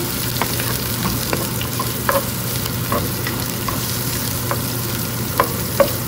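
Onion, tofu and vegetables stir-frying in a hot pan, a steady sizzle running throughout with light scrapes and taps of the utensil against the pan, close and with no talking.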